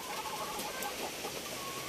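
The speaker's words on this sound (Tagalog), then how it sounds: "Andito yung mga inahin natin mga kanukis." Several hens cluck softly and continuously nearby against a steady outdoor background, with a faint higher call in the mix.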